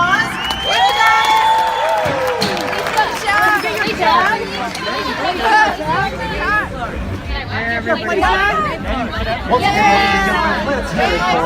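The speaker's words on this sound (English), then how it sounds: "please thank these wonderful people with your applause" An excited convention crowd at a TV-series panel cheers and whoops loudly, with shouting voices and chatter filling the hall continuously over eleven seconds and clapping mixed into the din.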